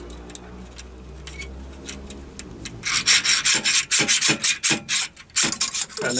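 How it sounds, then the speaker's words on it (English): Dry rubbing and scraping as a slide hammer is threaded onto a stud of a Myford ML7 lathe back-stop, starting quiet then turning into a series of short, loud rasping twists. "Screw the slide hammer onto the stud."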